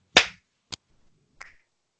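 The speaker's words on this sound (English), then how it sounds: "on one we clap" Podcast hosts clap together on a countdown: one sharp, loud, close clap, then a quick faint tap and a softer, slightly ragged clap a moment later, with silence between.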